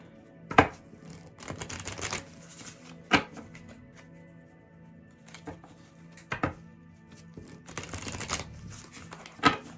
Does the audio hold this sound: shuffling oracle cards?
yes